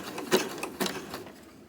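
A sewing machine zigzag-stitching fabric-wrapped rope for a rope bowl, a few short mechanical bursts of stitching, close and moderately quiet.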